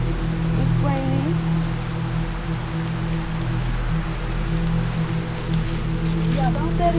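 Steady rain hisses near a waterfall in Hamilton, a constant wash of noise beneath a low hum, with people talking over it at moments.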